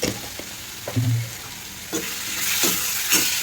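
Fish-roe curry with roe fritters stirred in a pan, a continuous close sizzle of frying with repeated scraping strokes of a spoon against the pan.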